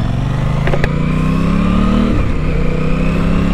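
An Aprilia RS 660 motorcycle engine pulls away as the rider sets off, a loud, close, rising drone that climbs in pitch, drops briefly at a gear change, then rises again, with no talking.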